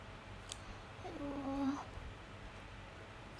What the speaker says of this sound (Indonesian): Iya ada kucing.